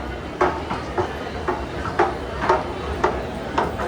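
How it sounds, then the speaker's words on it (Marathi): A train pulls into a crowded Dadar station platform in Mumbai on Buddha Jayanti, its wheels giving a steady, evenly spaced clack about twice a second over a low rumble and crowd murmur. "फायनली पहिली ट्रेन आली"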